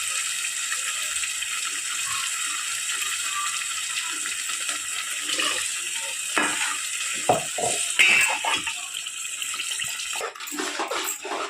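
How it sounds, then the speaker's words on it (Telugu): Tap water runs steadily into a mixer jar, with clinks and sloshing as the jar is rinsed under the stream. "ఇది కడుక్కొని మిక్సీ కడిగి"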